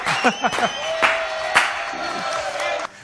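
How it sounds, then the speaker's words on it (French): Studio audience applauds and cheers for guest Frédéric Petitjean on a French TV talk show, a dense burst of clapping with whoops and shouts rising over it, cutting off abruptly near the end. "On applaudit très très fort Frédéric Petitjean."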